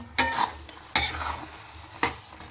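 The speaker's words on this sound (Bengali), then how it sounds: "ডালটাকে সবজির সাথে ভালো করে কষিয়ে নেব।" Lentils and vegetables stir-fried in a pan for sabudana khichuri, with three sharp scraping stirs of a spatula over a soft sizzle, close and clear with no talk.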